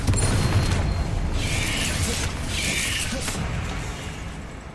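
Confringo explosion spell cast in the Hogwarts Legacy game, heard as a deep booming burst with swooshing, fiery bursts rising and fading over several seconds, no talk.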